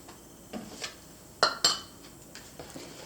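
Bread pudding ingredients being stirred in a bowl for a coconut bread pudding, heard as a few scattered clinks of a utensil against the bowl, with two sharper knocks near the middle, in an otherwise quiet kitchen.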